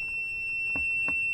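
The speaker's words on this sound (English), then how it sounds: "My AeroGarden is beeping." An AeroGarden indoor garden beeps with a steady high electronic tone continuously in a quiet room, with two soft thumps partway through.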